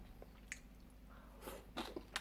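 Someone eats meat from Korean Naju beef soup together with kimchi, faint close-up squishy chewing with a few soft crunches and wet clicks.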